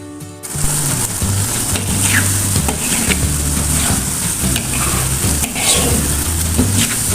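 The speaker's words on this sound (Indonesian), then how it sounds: "kita aduk-aduk terus ya bunda menunggu matang" Salted fish with green chilli and sweet potato sizzles steadily in a hot pan while it is stirred, with scraping and spattering throughout and no talking.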